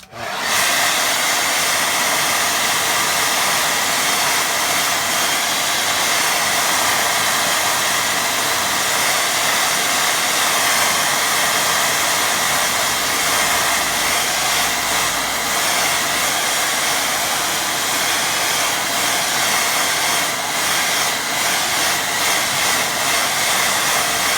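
A hair dryer blows steadily for a long stretch, drying a fresh watercolour painting on paper, a loud, close, continuous whooshing roar with no pauses.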